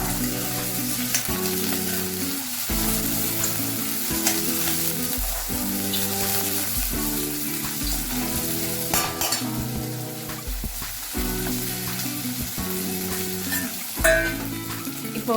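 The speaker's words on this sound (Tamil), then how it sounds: "அது நல்லா எண்ணெயில் வதக்குறாங்க." Vegetables sauté in oil for potato vada, a steady loud frying sizzle with ladle stirring, while rhythmic music plays underneath throughout.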